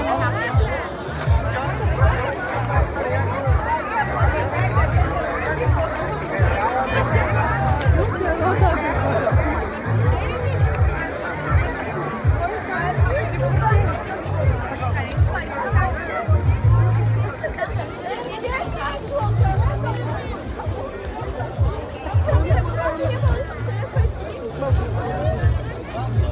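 Steady crowd chatter and babble fill a busy outdoor Bulgarian gypsy bride market, many voices overlapping at close range with no single speaker standing out, continuous throughout.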